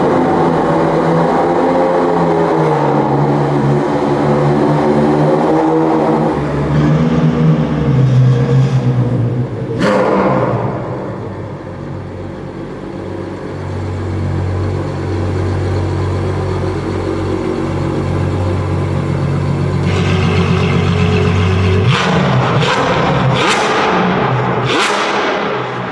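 A Novitec Ferrari Purosangue Esteso engine runs close by, rumbling steadily, then rising and falling through revs with sharper bursts near the end.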